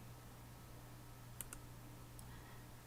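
A computer mouse clicks while cutting with a knife tool in editing software: a few faint, sparse clicks over a quiet, steady low hum.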